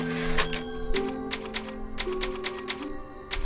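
Rapid clacking typewriter keystrokes from the save-point typewriter in the 2005 video game Resident Evil 4, a quick burst of about a dozen crisp mechanical strikes with a bell-like ring, clear and close.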